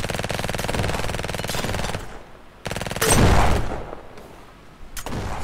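Shotgun fire in the browser shooter venge.io comes in rapid bursts of loud shots, separated by brief pauses, with one heavier blast near the middle.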